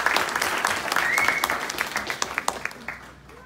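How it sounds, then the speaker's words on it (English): An audience applauds June Juanico at an art museum music award presentation, a dense patter of clapping that stays steady, then thins toward scattered individual claps before fading. "If you would give her a round of applause"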